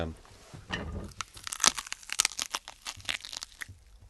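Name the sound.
biting a banana for a crunch sound effect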